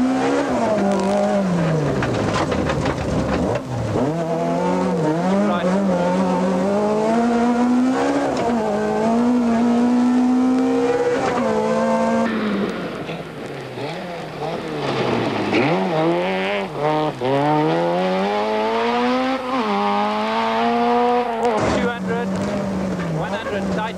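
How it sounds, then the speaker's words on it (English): A 1995 Volkswagen Golf rally car on a waterlogged stage revs hard, its engine pitch sweeping up and down through gear changes, with drivetrain whine cutting above the motor and a brief dip midway. "the sound of the drivetrain can be heard above the engine"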